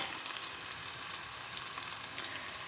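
Close, dense sizzle of onions frying over medium flame, steady and hissing, with faint stirring underneath.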